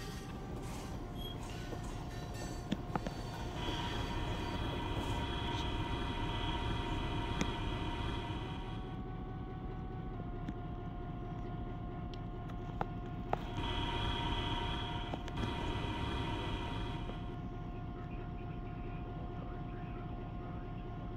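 Empty coal train of a short-line railroad rolling through a rail yard: a steady low rumble of diesel engines and rolling cars, loud and continuous, with occasional squeals and a brief clank.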